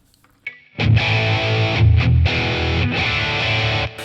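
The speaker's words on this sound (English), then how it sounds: "let's bring in the distortion." A heavily distorted electric guitar through a Boss Katana amp's internal distortion rings out in sustained, buzzing chords after a brief pick noise, loud and close, with no talking.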